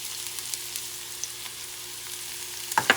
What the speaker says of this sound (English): And I'm going to add the garlic.